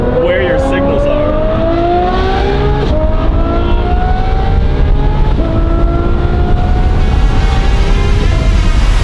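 A Lamborghini Murcielago with a manual conversion drives along, its engine droning loud and close, the pitch stepping up through several gear changes under strong road and wind noise.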